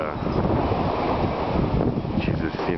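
Strong wind three stories up during the 2011 Chicago blizzard, a loud, continuous gusting roar buffeting the microphone close by, with no clear talk over it.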